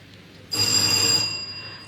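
A quiz contestant's answer bell rings once during a school science and maths quiz competition, a loud, sustained electric ring lasting about a second before fading, with no talking over it.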